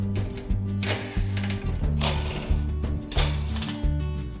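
A powered screwdriver removing screws from the front panel of an air conditioner condenser, with several short, close whirring bursts spaced about half a second apart, mechanical and steady, with no speech.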